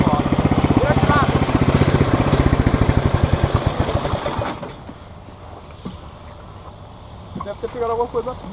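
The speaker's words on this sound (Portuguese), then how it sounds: "Tá batendo aqui, ó. Esse motor tá solto." A loose engine knocks and rattles in a steady rapid rhythm, loud and close for about four seconds, then drops away to quiet background with voices talking near the end.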